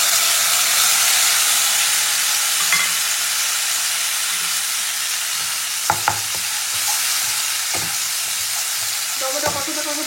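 Ground tomato paste fries with black cumin in hot oil for a fish curry, a loud continuous sizzle and hiss with a few sharp spatters and clinks of stirring.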